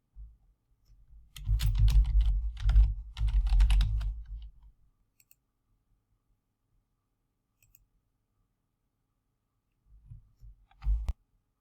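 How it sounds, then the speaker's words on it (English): Keyboard typing as a vendor name and account code are entered, a dense burst of quick clicks over about three seconds, then quiet, with a few more keystrokes near the end; no talking. "Type the vendor name and the account code."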